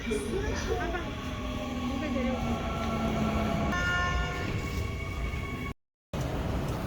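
Subway train pulling into a station, a steady loud rumble with high metallic squeal and brief tonal horn-like lines, with people talking over it and a short dropout near the end.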